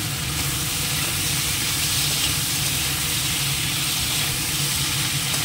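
Steady, loud sizzling of chopped tomato and ginger paste frying in a pan, a dense continuous hiss that holds evenly throughout with no talking.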